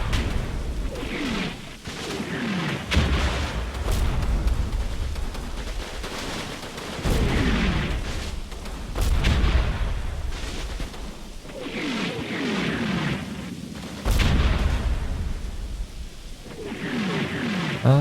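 Artillery shells burst in the Combat Mission: Battle for Normandy wargame, a run of heavy booms and rumbling impacts rolling through the whole stretch at a steady, fairly loud level with no voices.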